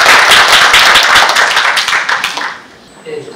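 An audience at a public briefing claps in a dense burst of applause that starts loud and fades away over a few seconds.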